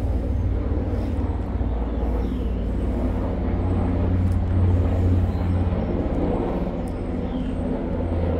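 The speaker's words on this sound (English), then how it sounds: "so that's a helicopter going overhead." A helicopter flies overhead near the Pentagon, a steady low broadband rotor and engine rumble that swells slightly midway and fades again, heard outdoors by a shade garden with no talking.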